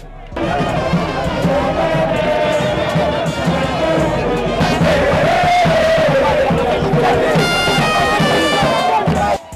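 A large crowd gathered at a party headquarters in Lubumbashi chants, cheers and chatters in a steady, loud, continuous din that holds throughout.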